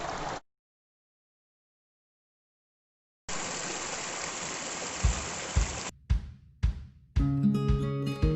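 A river flows near Semeru by Supiturang village, a dense rushing wash of water that cuts out briefly to silence, returns loudly, and is broken by several heavy thumps before faint tonal sounds enter at the close.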